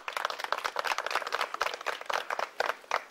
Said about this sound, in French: Les applaudissements priés pour Aziz qui vient de vous montrer en quelques lignes ce qu'est le CRAC